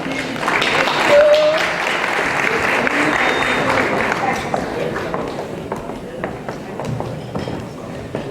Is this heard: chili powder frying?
no